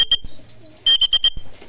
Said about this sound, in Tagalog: Ayan, yung ibon natin. Galing na ng south.